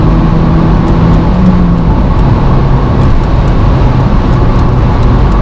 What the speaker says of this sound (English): once the turbo has spooled up, it just gets going and it pulls all the way nicely